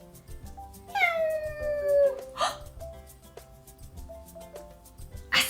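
A pet cat meows clearly and close by: one long, drawn-out falling meow, then a short second call and a brief chirp at the end, over a soft tonal children's-show music bed.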